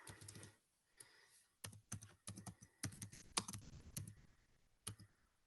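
Keys tapped on a computer keyboard while entering a search phrase for a removal service, coming in irregular bursts of clicks with short pauses between them, close and fairly quiet, with no talking.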